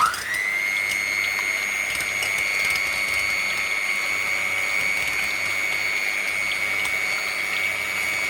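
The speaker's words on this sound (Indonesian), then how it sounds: "Jadi ini saya kocok dulu ya." An electric mixer whisks egg whites at medium speed for a butter cake batter, its motor spinning up quickly and then holding a steady, even whine throughout, close and alone.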